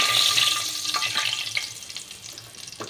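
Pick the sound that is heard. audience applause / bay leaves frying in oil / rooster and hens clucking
bay leaves frying in oil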